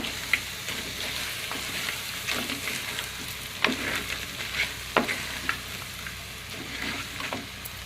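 Washed crabs frying in oil in a pan with turmeric, giving a steady close sizzle broken by occasional soft stirring clicks and scrapes, with no voices.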